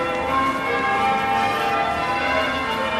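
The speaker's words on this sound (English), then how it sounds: "the cathedral has had bells going on for the last few minutes" Christchurch cathedral bells ring continuously in a dense, sustained peal, the overlapping tones layered and fairly loud throughout, heard outdoors in the city with no talking.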